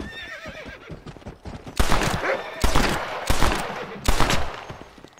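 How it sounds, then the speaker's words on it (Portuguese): Gunshots in the Red Dead Redemption video game on Xbox One: four loud, sharp bursts of gunfire spaced about a second apart, following horse neighs and clip-clop sounds. "os efeitos de tiro do Red Dead pra mim são os melhores"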